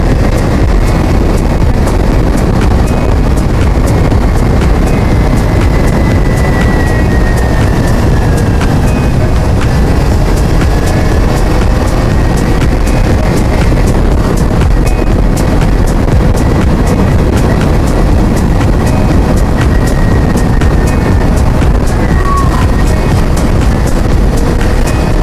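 Strong wind buffets a GoPro Hero on a motorcycle riding from Ciwidey toward Curug Citambur via Cipelah, a loud constant roar of wind noise with engine rumble underneath and no voices.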